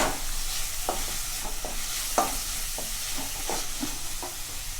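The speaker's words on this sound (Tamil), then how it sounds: "அதில் வெங்காயம் வதங்கட்டும்" Shallots sauté in oil in a pan with a soft, steady sizzle, punctuated by a series of light scraping stirs from a spoon, close up and moderately quiet, with no one speaking.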